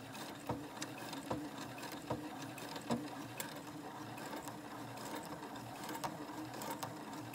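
A sewing machine stitches a facing to a dress, right sides together, in a faint, steady mechanical whir with light regular ticks and clicks, no voices over it.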